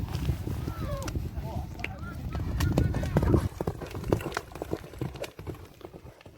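A Karabair horse gallops during an ulak (buzkashi) match, its hooves pounding in quick uneven clip-clop beats, with a crowd murmuring and a voice talking in the background.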